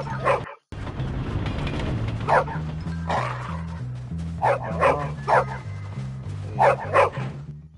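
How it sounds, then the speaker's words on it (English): A dog in the video game Bully barks repeatedly in short yips and bow-wows over a looping in-game music bed, fairly close and loud with gaps between bursts. "Look at that dog."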